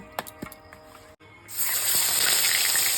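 Fish frying one at a time in hot oil, a few light taps and clinks and then a steady loud hiss and crackle that swells and holds.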